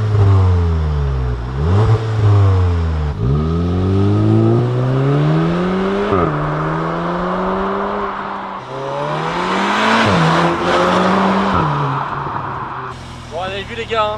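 A Volkswagen Golf 7R engine revs repeatedly, climbing and dropping in pitch through several pulls, loud and close, with occasional talk over it.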